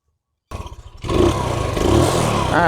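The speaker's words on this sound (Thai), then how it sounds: "เดี๋ยวจะติดเครื่องให้ดูนะครับ" A Yamaha Spark Nano motorcycle with a rough-running carburetor engine cranks after half a second of silence, catches, then runs loud and close with an uneven, clattering idle and a slight rev near the end.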